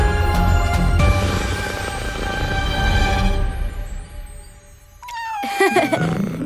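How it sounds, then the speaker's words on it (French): A cartoon cat in a French-dubbed animated superhero series meows in a short, high, rising cry near the end, after a stretch of background music and other sound. "Tu es un gentil chat."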